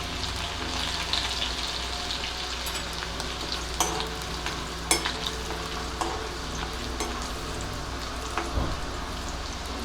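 Garlic frying in a pan for a bharangi leaf vegetable dish, a steady close sizzle and crackle of oil that runs without a break, with scattered small pops and a few stirring clicks.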